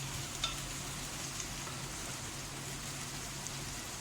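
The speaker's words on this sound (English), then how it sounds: "After putting adrak and lesan also, I will saute it for 2-3 minutes" Ginger and garlic sautéing in a pan for a mutton kofta masala, a quiet, steady low sizzle with a faint clink or two, heard alone without talk.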